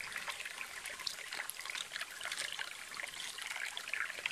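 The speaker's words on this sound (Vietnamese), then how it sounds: "Mình xin được rửa sạch đi để cho bác xem rõ hơn về cái củ tắc kè đá này." Water trickles and splashes softly as a drynaria (tắc kè đá) root is rinsed, a faint, steady stream of liquid running throughout.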